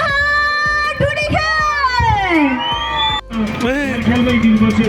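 Festival crowd at the Tansen music festival in Palpa shouting, whooping and cheering loudly up close, with shrill voices rising and falling in a sustained roar and a sharp surge partway through.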